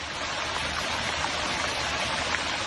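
Over two million litres of red wine pouring through the streets of a Portuguese village, a dense continuous rushing like a waterfall or torrent, loud and unbroken throughout.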